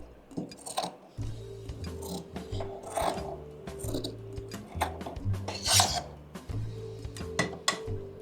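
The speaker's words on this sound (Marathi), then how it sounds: "आता जे हे एक्स्ट्राचं आहे हे कट करायचं." Scissors snip away excess blouse fabric in a series of close crunchy cuts, uneven rhythmic rasps and clicks that repeat over several seconds.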